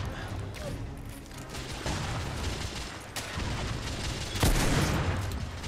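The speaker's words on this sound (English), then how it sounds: "Ooh, this is a powerful revolver." Revolver gunfire in The Order: 1886, loud booming shots amid a dense battle mix of gunfire and mechanical clatter, with one especially strong blast near the end.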